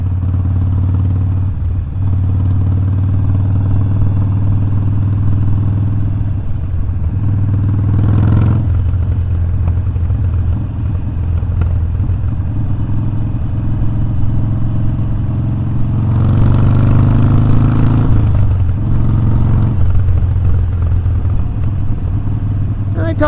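Harley-Davidson Sportster motorcycle engine running steadily while riding with a passenger near the beach at Wildwood, a loud close rumble with wind noise and a few shifts in pitch as it accelerates.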